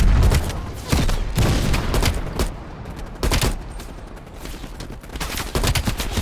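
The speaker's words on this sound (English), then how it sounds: "Oh, they shoot rocket launchers, bro." Heavy explosive blasts and booming gunfire from Call of Duty: Black Ops Cold War, with rocket launchers among the weapons, crash in loud repeated bursts over a constant rumble of combat.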